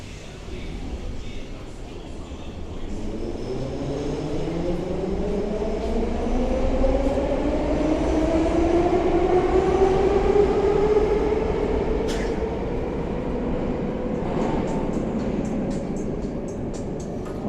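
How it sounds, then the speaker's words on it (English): Metro train at the main interchange station of the Minsk Metro, its motor whine rising steadily in pitch as it accelerates, loud and close over a constant underground rumble, with a brief sharp squeal near the end. "this is the main crossing metro station"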